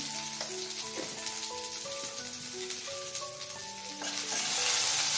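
A quarter spoon of asafoetida drops into hot oil already holding green chillies, for a cabbage paratha, giving a soft, steady sizzle that runs under background music throughout.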